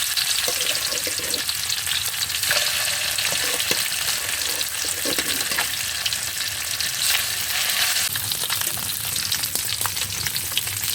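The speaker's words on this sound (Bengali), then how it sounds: "বাকি মাছ ভাজা শেষ" Carp pieces fry in hot oil in a pan, a dense, steady sizzle and crackle running loud and close throughout with occasional stirring clicks and no voices.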